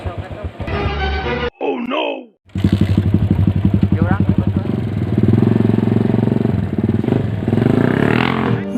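A motorcycle engine idles and revs close by, a loud pulsing, chugging rumble with rapid firing beats, starting after a short break with other sounds and carrying on steadily to the end.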